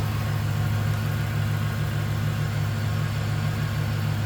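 A 1996 Chevrolet Impala SS with a 5.7-liter 350 V8 idles steadily at close range, a smooth, low, even rumble with no voices.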